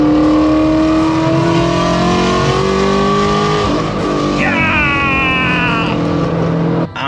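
2020 Ford Mustang GT350 with full bolt-ons and a custom dyno tune accelerating hard, its loud engine note climbing steadily, then a quick shift and another rising pull, heard from close range.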